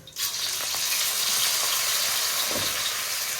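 A handful of Sichuan peppercorns and doubanjiang hit hot oil with a sudden loud sizzle that holds steady and close, with a soft stir or scrape near the end.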